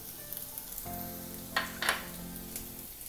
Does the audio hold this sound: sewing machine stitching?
no